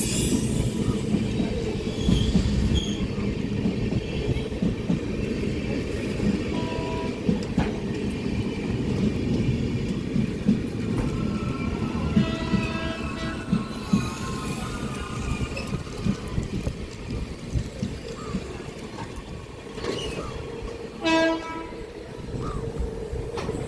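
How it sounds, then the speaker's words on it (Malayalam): Thiruvananthapuram Venad Express arriving at platform 1 of Chalakudi station, a loud continuous rolling rumble with rhythmic wheel clatter, squealing wheels and a horn blast near the end, with no voices. "Thiruvananthapuram Venad express arriving platform number 1"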